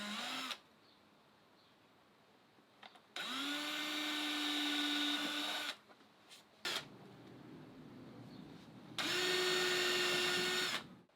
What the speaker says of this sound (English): It always pays to drill a pilot hole